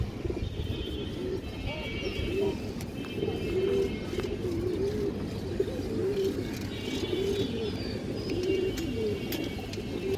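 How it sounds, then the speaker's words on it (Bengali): Pigeons coo in repeated low, rolling phrases close by, with faint chirps and background hum behind the calls. "একটা বাঘা মাদি কবুতর আছে"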